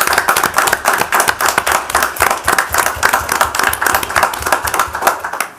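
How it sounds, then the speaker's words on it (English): Applause at a county fiscal court meeting honoring local firefighters: steady, dense clapping from an indoor audience for several seconds, loud and close with no talk over it. "Let's give these fellows a round of applause for their work."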